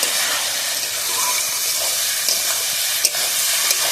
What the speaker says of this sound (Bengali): এবার আমি চালটা ভালোভাবে কষে নেব